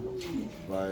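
Roman gaal pigeons coo softly at close range, low rolling calls repeating over a quiet background.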